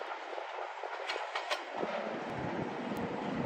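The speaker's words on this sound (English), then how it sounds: "the growl of the ALCO 251 will no longer be heard plying the rails of the Commercial" Diesel rumble and rail noise from an ALCO 251-engined locomotive on the Minnesota Commercial Railway, the low engine growl building as the train rolls past with steady, moderately loud clatter and no talk.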